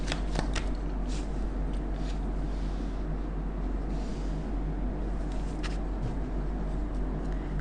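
Tarot cards shuffled steadily and close up, a continuous riffling rustle over a low constant hum, with a few sharper card snaps near the start and middle.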